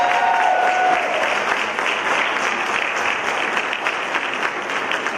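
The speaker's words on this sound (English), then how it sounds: "Let's give our principals a great round of applause." Dense, sustained applause from an audience at a school district superintendent's meeting with PTSA and PTO, honoring school principals; a steady roar of many hands that carries on with no talk over it.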